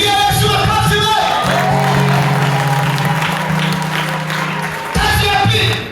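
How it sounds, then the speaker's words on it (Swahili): Church congregation clapping together: loud sustained applause with cheering and whoops that swell and continue for several seconds, mixed with voices and shouts. "Pigia Yesu makofi wewe"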